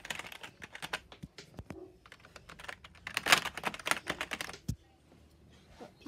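Fingers type on a Booga computer keyboard in a bedroom gaming setup, a close, busy patter of key clicks with a few heavier strokes, then a brief near-quiet pause before more taps.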